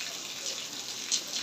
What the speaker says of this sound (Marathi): आलं पाणी